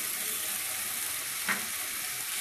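Tomato paste sizzles with onions in a hot pan for a chicken curry. The fry is steady and even throughout, with one brief clack from a utensil midway.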